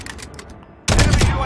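Gunfire in Call of Duty Warzone 3 battle royale erupts as a sudden loud burst of shots after a quieter stretch of faint game noise.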